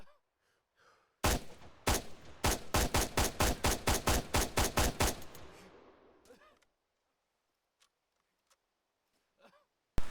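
Gunfire in Arma 3 shooting through walls: a rapid string of about a dozen sharp, loud shots in close succession, then an echoing tail into near silence, with a few faint clicks afterward.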